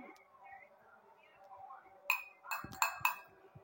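A spoon clinks against a plate several times in quick succession while a child eats rice, ending a quiet stretch of soft background sound.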